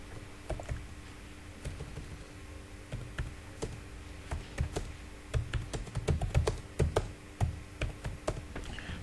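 A search query being typed on a computer keyboard: close, quick, uneven runs of keystroke clicks that speed up and grow louder partway through, with no talking.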